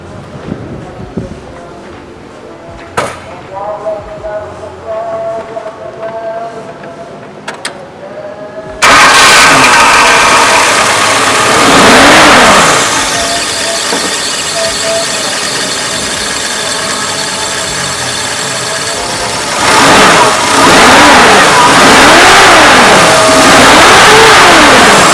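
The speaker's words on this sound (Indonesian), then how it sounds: "Sekarang kita akan coba hidupkan mesinnya." Quiet clicks and faint rattles, then a Suzuki Katana GX engine cranks and catches, roaring loudly and revving up and down in several rising and falling surges.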